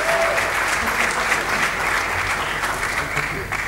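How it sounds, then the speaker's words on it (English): Conference audience applauding panelists as they walk onstage, loud sustained clapping from a crowd for the full few seconds, with a voice faintly underneath. "cheer for them."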